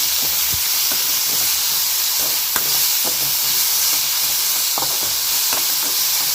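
Coriander leaves sautéing in a pan with rice ingredients for a Tamil lunch-box rice, giving a steady, close sizzle and hiss with occasional scraping stir strokes throughout.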